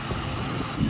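A project car's engine runs steadily at idle with a low, continuous rumble, close and moderately loud, brief and without speech.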